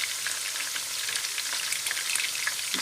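Onions fry in hot oil with a continuous bright sizzle and fine crackling, close and loud, holding steady throughout with faint popping spatters and no talking.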